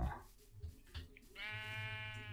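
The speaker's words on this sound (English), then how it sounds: "That is another sheep." A sheep bleats in the video game Minecraft: one clear, drawn-out, wavering bleat sounds near and fairly loud after a few soft scattered noises.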